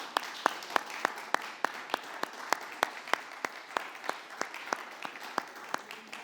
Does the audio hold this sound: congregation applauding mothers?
yes